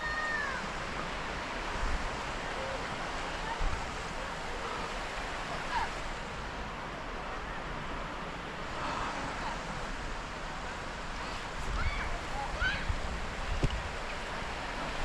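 Rushing river rapids along a riverside footpath at Stainforth, a steady broadband roar of water running throughout at moderate level, with faint rustling and brief background sounds over it.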